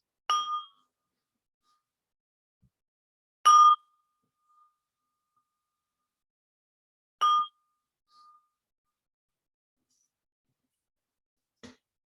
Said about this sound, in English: I like to ring 3 bells to help us center ourselves